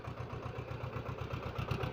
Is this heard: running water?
no